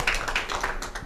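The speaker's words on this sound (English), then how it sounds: "Round of applause for that beautiful music." Brief scattered clapping from an audience after a live music performance at an arts association exhibit, light and fairly distant, tapering within about a second.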